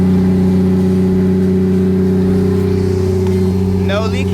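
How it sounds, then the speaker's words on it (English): A loud turbocharged Toyota Supra with a $650 eBay turbo kit drives with a steady heavy engine drone close by, with some chatter faint underneath. "The car is really loud right now"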